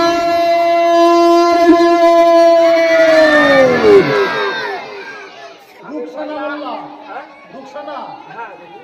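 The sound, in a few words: crowd shouting takbir in response to speaker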